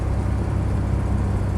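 Faint chuffing from a leaking exhaust manifold gasket at the downpipe of a Rover 100 P4, buried in a steady low engine drone that runs without a break.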